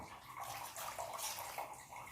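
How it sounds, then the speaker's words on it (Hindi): Water poured from a small bowl into semolina idli batter, a soft continuous splashing and trickling that runs steadily for a couple of seconds, fairly quiet and close, with no one speaking. "छोटी कटोरी से जानी आधा कटोरी इसमें पानी डाल दिए हैं।"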